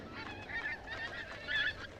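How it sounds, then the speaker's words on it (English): Geese honk on tundra nesting grounds in Alaska's Brooks Range, a few distinct nasal calls in short bursts over a quiet, faint background. "The geese have come to their tundra nesting grounds"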